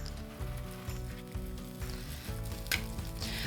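A whole grain tortilla quesadilla sizzles in a well-oiled hot pan on the stove, a soft steady frying hiss that stays fairly quiet and even, with no voices.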